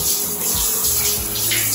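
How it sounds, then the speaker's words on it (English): A handheld shower spout runs in a resort room bathroom at an all-inclusive adult resort in Punta Cana, giving a steady, close, full rush of spraying water with no voices. "the shower also has this nice little handheld spout in case you don't want to use the overhead"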